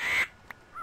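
Bird in the Twilight Forest video game gives a loud, harsh crow-like caw, then a short faint chirp and a second softer call, with no talk.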